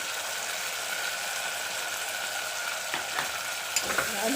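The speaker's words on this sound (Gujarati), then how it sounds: "હવે આ બધું મિક્સ કરી અને દસ મિનિટ માટે તેલમાં પાકવા દેશું" Spices, tomato, cluster beans and potato frying in oil in a pan while being stirred, a steady soft sizzle with a few scraping stir sounds near the end, no talking.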